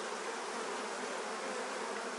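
Honeybees buzz steadily and densely throughout a beehive inspection, a continuous close-up drone with no pauses and no talking.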